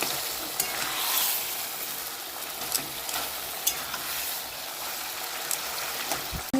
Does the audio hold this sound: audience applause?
no